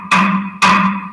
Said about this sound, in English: But this is the sound of a log drum.